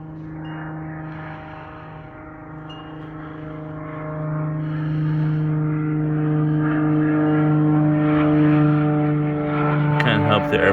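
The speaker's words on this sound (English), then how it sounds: "Can't help the airplane noise in the background." A propeller airplane drones steadily overhead near an airport, a low continuous hum that swells slightly and lingers in the background of an indoor space.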